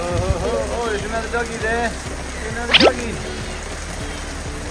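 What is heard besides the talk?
rain falling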